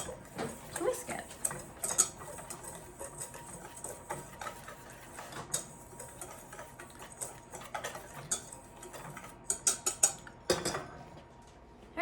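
Whisking flour and other dry ingredients with a pinch of salt in a bowl for a sunflower cake, a quick irregular run of light metallic ticks and taps of a whisk against the bowl, close and fairly quiet, with brief talk between strokes.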